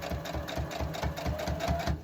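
A sewing machine stitches binding onto a quilt, a close, rapid rhythmic clatter of needle strokes pulsing evenly and continuously with no talking.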